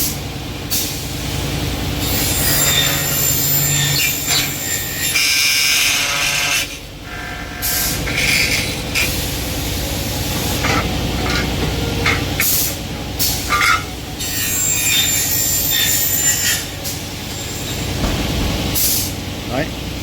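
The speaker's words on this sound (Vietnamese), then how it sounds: "Bây giờ tôi phay vào cái sản phẩm chính nhé, phay vào giữa của cái thanh ngang của cái nhôm" A milling machine cuts a drainage slot into the horizontal aluminium bar of a premium door frame, giving a loud, continuous, shrill grinding with shifting tones and brief dips, while someone talks over it.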